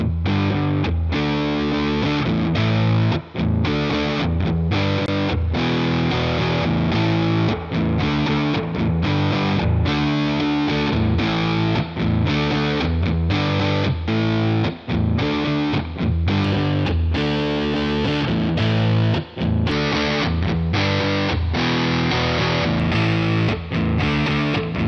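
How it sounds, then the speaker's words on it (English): An electric guitar plays a steady rhythmic part with crunchy distortion through the dirty mode of a free amp-simulator plugin's clean channel, loud and continuous with no talking. "the clean channel also has a dirty mode, which allows boosting the gain and getting some decent crunch"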